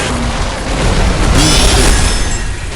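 A skill explosion in the video game Solo Leveling Arise, a loud sustained booming blast with crackling bursts that swells in the middle and fades slightly, with no voice over it.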